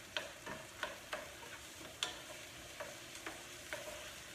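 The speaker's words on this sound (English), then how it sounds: "Okay, so we're sauteing all of these." Sweet bell peppers sautéing in a pan over medium-high heat, a soft steady sizzle broken by a series of sharp spoon taps and scrapes against the pan at irregular intervals.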